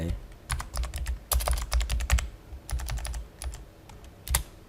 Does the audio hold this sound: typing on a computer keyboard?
yes